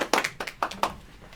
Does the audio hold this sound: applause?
yes